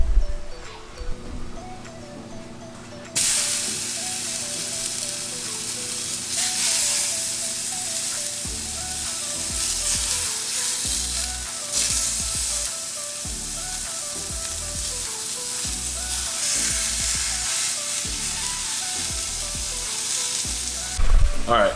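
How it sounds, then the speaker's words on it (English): A seasoned steak fries in a hot pan with a steady loud sizzle and crackle, while faint rhythmic thumps and low background noise run beneath it. "the steak has been cooking for about 4 minutes"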